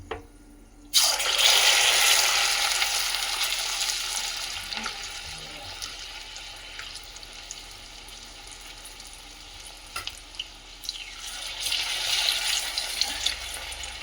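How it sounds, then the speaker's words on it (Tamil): Puli Bongaralu batter, an Andhra snack dotted with chana dal, drops into hot oil and bursts into a loud bubbling sizzle that gradually settles into a steady hiss, with occasional crackles and a second swell of frying toward the end. "இதோ இந்த மாதிரி தான் மாவு கையில் எடுத்துக்கிட்டு கொஞ்சம் கடலப்பருப்பு அது மேலே அப்படி விட்டுட்டு அப்படியே எண்ணெயில் விடணும்"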